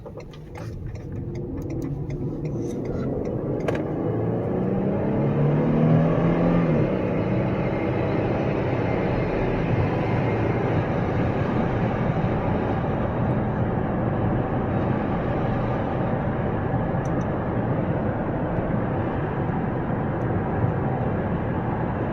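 A 2016 Ford Explorer police utility interceptor with twin-turbo EcoBoost AWD cruising on a highway, a steady broadband road and engine drone with tire roar, building slightly and holding constant without speech.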